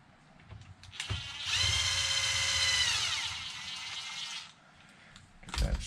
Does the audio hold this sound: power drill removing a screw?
yes